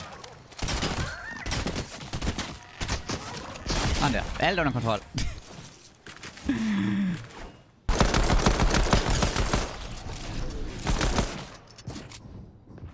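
Rapid bursts of gunfire from a Fortnite arena match crackle in repeated volleys, loud and close, while players talk over the shooting.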